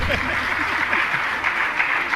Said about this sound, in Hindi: बजाओ ताली जोर से